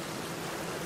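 Steady rain falling outdoors in the video game The Black Mirror, a soft, even hiss with no breaks, faint and continuous throughout.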